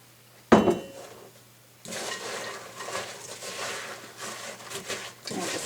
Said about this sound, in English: I'm just going to stir until well coated.